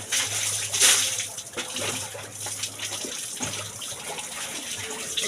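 Tap water running and gushing into a container, a steady splashing stream with bursts of spatter, close and fairly loud, with a low hum pulsing underneath.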